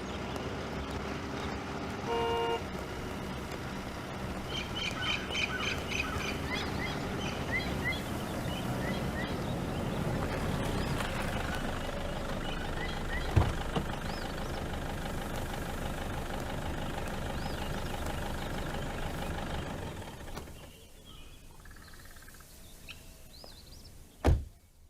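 A car pulls up, sounding its horn and then idling steadily in the open, its engine carrying on alone for some time before dropping away near the end, with a brief sharp knock at the close.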